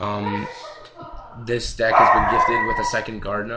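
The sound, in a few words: dog barking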